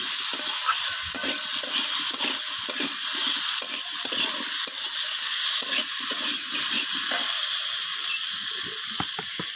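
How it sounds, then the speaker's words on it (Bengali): Vegetables being stirred and sautéed with ginger paste in a pan, with a continuous close sizzle broken by repeated scraping and clattering strokes of the spoon, no talking. "তো সমস্ত কিছু আবারও আমি এইভাবে নাড়িয়ে চাড়িয়ে সবজিগুলোকে কষিয়ে নিচ্ছি।"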